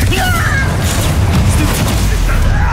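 A Confringo blasting-spell explosion in the Hogwarts Legacy goblin mines, a loud, dense, booming roar that fills the whole moment without letup, with crackling debris over a heavy low rumble.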